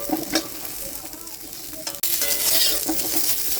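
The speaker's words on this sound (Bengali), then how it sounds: "এইভাবে নেড়ে আলাদা করে ভেজে নিচ্ছি।" Spices and tomatoes sizzle in hot oil while a spoon stirs and scrapes the pan, with a bright steady frying hiss that jumps louder after a brief break midway.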